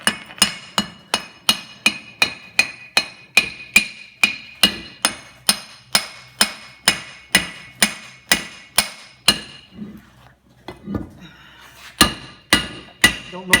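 Steady, evenly spaced hammer blows ring out on an anvil being repaired while hot, a long run of bright metallic strikes with a brief pause before the pounding resumes.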